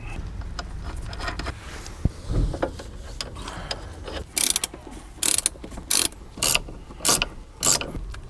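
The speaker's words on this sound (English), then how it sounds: "Now, torque wrench. Anti-roll bar link." A torque wrench ratchets while tightening an anti-roll bar link on a BMW 7 Series G11, starting with faint mechanical handling, then short bursts of crisp, close clicking repeated in quick strokes.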